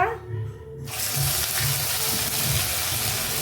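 Ginger paste hits hot caramelized sugar in a pan with a sudden loud hiss that settles into steady, close sizzling frying.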